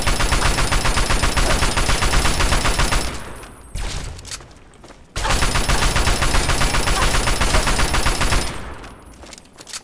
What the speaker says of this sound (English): Who's shooting at what?